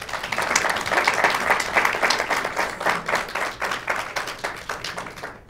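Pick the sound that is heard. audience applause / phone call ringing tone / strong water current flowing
audience applause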